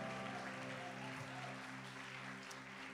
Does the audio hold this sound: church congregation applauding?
yes